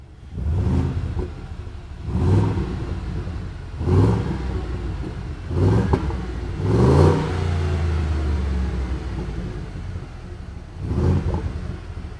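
A Ford Super Duty pickup engine drones steadily while driving at about 26 to 30 mph, with a low rumble from an MBRP 4-inch cat-back single exhaust and periodic swells of revving, heard from inside a closed cab.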